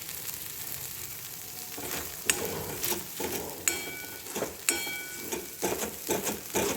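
Cold, fridge-stored boiled raw banana cooks in spitting oil for a curry, a continuous sizzle broken by sharp pops and spatters, with some scraping of the pan.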